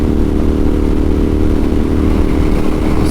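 A Royal Enfield Interceptor 650 motorcycle cruising steadily on a highway, its engine a constant low drone with wind rush, loud and unbroken throughout.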